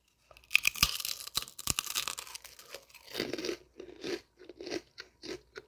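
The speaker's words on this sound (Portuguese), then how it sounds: "Estou comendo esse biscoito aqui de bacon." Crunchy bacon-flavoured biscuit being bitten and chewed up close, with loud dry crackling crunches at first, then a series of distinct rhythmic chewing crunches, no talking.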